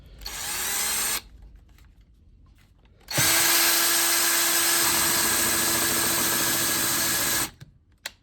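Power drill boring half-inch holes in a model railroad control panel: a short whine, a pause, then a long loud steady bite of the bit through the panel before it winds down, no talking.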